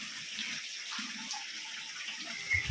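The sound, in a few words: water dripping inside a temple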